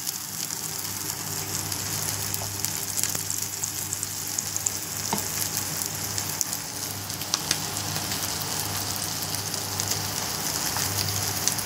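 Thick pieces of surmai (kingfish) sizzle loudly in hot oil in a pan, a dense, constant crackling hiss with occasional sharper pops throughout.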